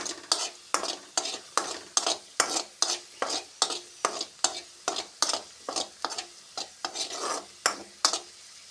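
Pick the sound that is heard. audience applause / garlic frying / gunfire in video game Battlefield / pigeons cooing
garlic frying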